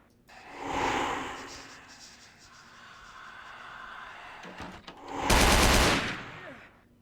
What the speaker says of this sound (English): Are you shooting each other?